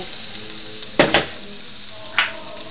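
Garlic hits a little oil in a wok-style pan as a cooking base for fried squid, giving a steady close sizzle with a few sharper bursts of crackle and spatter.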